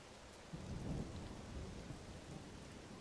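Rain and thunder in Zelda: Tears of the Kingdom, a faint steady downpour hiss with a low rumble swelling in and out underneath. Quiet and continuous, no voices.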